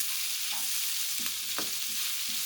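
Alexandrian-style beef liver stir-frying with hot pepper in a pan, a steady loud sizzle throughout with a few soft scraping stirs, no voices.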